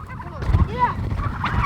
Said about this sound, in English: I don't know if you guys can hear these turkeys.